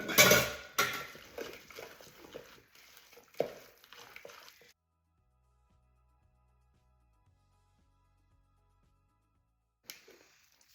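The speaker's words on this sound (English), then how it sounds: "And then you just want to give it a mix." Tuna salad stirred with generic-brand mayonnaise in a bowl, a spoon scraping and clinking against the sides in loud, irregular strokes for several seconds, then near silence apart from a faint low hum and a brief scrape at the end.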